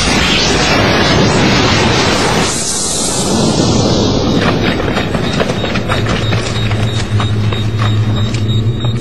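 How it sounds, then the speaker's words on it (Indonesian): Planted explosives detonate in a single loud blast that swells into a long rumbling roar of debris and rolling noise, filling the whole stretch without speech. "Sekarang ledakan."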